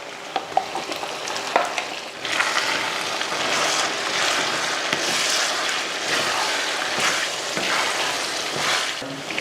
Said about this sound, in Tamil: நல்லா மசாலா போட்டு நல்லா ஒரு ரெண்டு மூணு நிமிஷத்துக்கு நல்லா வதக்கி விட்டோம்னா நல்லா எண்ணெய் பிரிஞ்சு வரும்